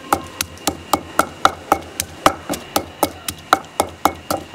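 Garlic cloves minced finely with a cleaver on a wooden board, a steady run of quick, crisp chops close by, nearly twenty strikes in a brisk even rhythm with no talk.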